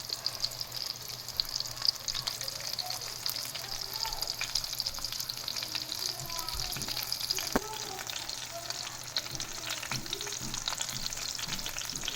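Chicken cutlets fry in a pan with a steady, close sizzle and crackle throughout, joined by occasional stirring and scraping sounds.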